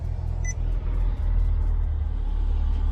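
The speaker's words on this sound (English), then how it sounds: "So let's start the vehicle really quick." A Corvette C8 Stingray coupe idling after start-up, a steady deep engine rumble close by with a short higher tick early on, no voices.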